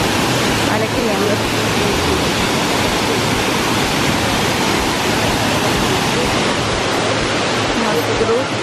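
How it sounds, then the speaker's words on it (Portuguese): The Sinhozinho waterfall in Bonito roars loudly and continuously, a dense wash of rushing water with a voice faintly mixed in beneath it. "Essa é a primeira cachoeira que a gente veio"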